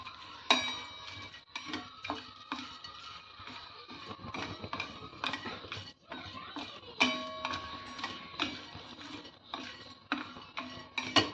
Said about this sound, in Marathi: याला छान असं कमी गॅसवरती भाजून घ्यायचं आहे.